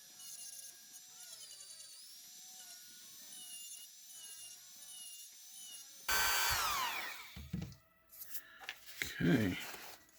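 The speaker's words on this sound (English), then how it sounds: "We're going to do a quick little cleanup with the Dremel." A Dremel rotary tool cleans up a knock-off action figure part, first as a faint steady high whine, then a louder burst of grinding and scraping against the plastic toward the end; a voice murmurs faintly.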